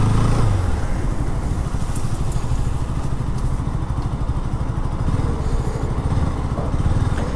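A 2022 KTM RC 200 motorcycle engine drones steadily and loudly while riding, a constant rough rumble with no pauses.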